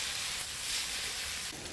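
Onions frying in a pan, giving a steady close sizzle and hiss that dips slightly near the end.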